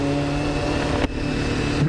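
A Suzuki GSXF motorcycle engine running on a Dublin street, a steady buzzing hum with a brief dip and rise, close and fairly loud throughout.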